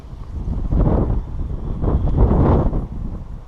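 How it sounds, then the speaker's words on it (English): Gusty wind buffets the microphone outdoors during a beehive inspection, a continuous low rumble that swells and fades in waves, loud and close throughout, with no voices. "I didn't realize it was that windy here."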